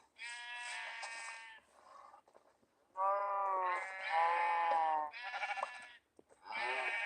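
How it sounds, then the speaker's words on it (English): Repeated Minecraft sheep bleats, loud and close, in long wavering calls separated by short gaps, with no talking. "sheep noises and cow noises"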